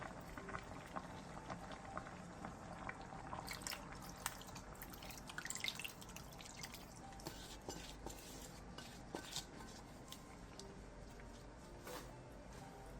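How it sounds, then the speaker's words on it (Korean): Braised cutlassfish with vegetables and seasoning broth cooking over high heat in a pot, a steady low bubbling simmer with scattered faint drips and pops throughout, quiet and continuous with no talk. "센 불에서 끓여주세요."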